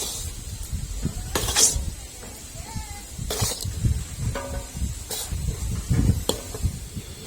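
Rice and animal feed mix dry-roasted in a pan, scraped and stirred in bursts of dry hissing and scratching with quieter gaps between, close by, no voices.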